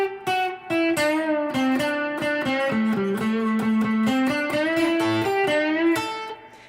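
Electric guitar plays a blues lick picked with all downstrokes, a clear run of bent and sliding single notes played alone and fairly loud, lightly overdriven.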